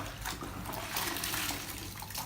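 Water sloshing and trickling steadily as a caulk-wiping sponge is rinsed out during shower and bathtub caulking, close and moderately quiet, with no talk.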